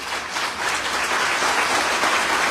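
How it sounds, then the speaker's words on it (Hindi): Loud, sustained applause from a large audience, a dense and even clatter of many hands clapping together at close range, with no voices rising above it. "एक बार जोरदार तालियां उस इंसान के लिए हो जाए जिसने हमें यहां पर लाके खड़ा किया।"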